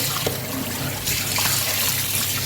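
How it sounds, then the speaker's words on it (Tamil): Idli rice being washed in water, a steady running-tap and sloshing wash of water filling a vessel, continuous and close with no talk. "நல்லா ஒரு அஞ்சு தடவை கழுவணும்"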